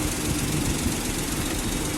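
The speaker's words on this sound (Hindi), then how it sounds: "इंजन चालू है कंप्लीट" A Maruti WagonR K10 engine idles steadily right after a timing chain replacement. The rumble is dense, even and continuous, with a fine knocking texture, heard up close with no talking.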